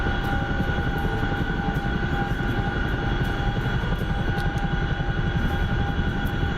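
A helicopter in the GTA NoPixel game flies at high speed, a loud, steady rotor and engine drone with a continuous whine and rapid blade thump, holding evenly throughout with no voices.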